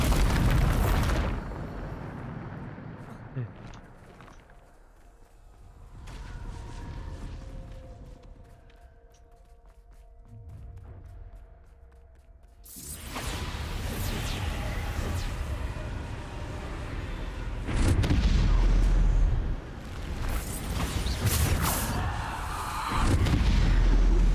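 Spell blasts from the Bombarda explosion charm in Hogwarts Legacy boom out loudly in several heavy bursts, the densest and loudest coming in the second half amid game noise, with quieter rumbling passages earlier.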